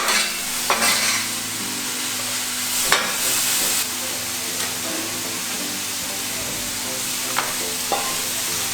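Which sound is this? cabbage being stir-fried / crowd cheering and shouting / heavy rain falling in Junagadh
cabbage being stir-fried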